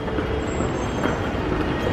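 A subway train in Taipei rumbles loudly and steadily close by, with a dense low roar of wheels and carriage noise filling the space and no voices.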